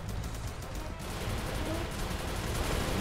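Rapid, continuous automatic fire from an M4A1 rifle in a Roblox shooter game, a dense, steady burst of shots running throughout, loud and close, with no talking.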